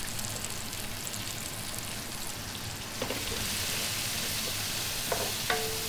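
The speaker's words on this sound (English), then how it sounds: "we saute this, the onion, the garlic, about 2 minutes" Onion and garlic sauté in hot oil in a pan, a steady close sizzle and crackle with a few light clinks of a utensil toward the end and no voices.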